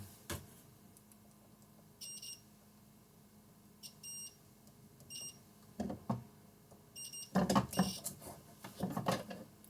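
Several short, high electronic beeps from a multimeter in continuity mode, testing a motherboard's shorted Ethernet chip, sound at irregular intervals, mixed with clicks and handling noise.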